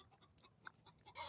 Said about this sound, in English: My chickens are being noisy over there.